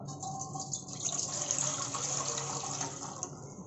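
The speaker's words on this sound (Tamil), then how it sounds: "ஒரு கடாயில் தண்ணி ஊற்றிக்கலாம்." Water streams into a kadai while cooking cauliflower 65, a steady close splashing gush running throughout at moderate level.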